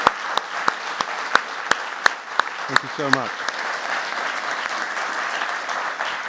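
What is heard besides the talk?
audience applause for the panel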